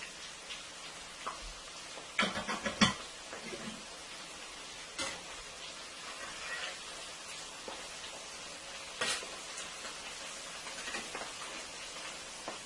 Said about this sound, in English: Okay, that's the last shrimp I'm putting in now